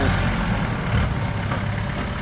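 A Kubota M5000 SU 50-horsepower tractor engine idling nearby, a steady low throbbing rumble that holds evenly throughout.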